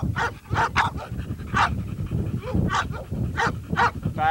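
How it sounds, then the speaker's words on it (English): A game-bred pit bull bitch in a kennel yard barks in repeated sharp bursts with panting and whimpering between them, loud and close, no voices over it. "Very game dog."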